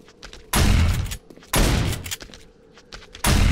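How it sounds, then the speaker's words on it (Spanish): Three heavy shotgun blasts boom close and loud in the zombie survival game 7 Days to Die, spaced about a second or more apart, with quieter clicks and shuffling between shots. "Escopeta, vamos allá."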